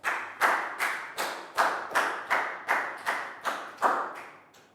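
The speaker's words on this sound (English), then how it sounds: "Big round of applause for Net." Rhythmic clapping for a student in a Year 3 social studies class, about a dozen crisp, evenly spaced claps in a steady beat, fairly close and with no talking.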